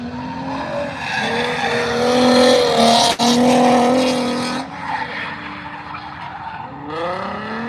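A Nissan 350Z drift car screams past at Ebisu Circuit, Japan, with a loud, revving engine and squealing tyres, the roar swelling, cutting briefly, then easing into a lower rumble as it continues.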